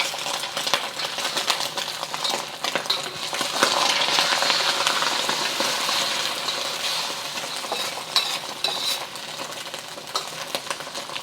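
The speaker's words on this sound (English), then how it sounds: "add your oil, adding about 2 tablespoons of cooking oil. I'm using corn oil, and we're gonna do our eggs first" Eggs frying in corn oil in a hot pan or wok, a steady crackling sizzle that swells midway, with occasional utensil clinks, close by and uninterrupted by talk.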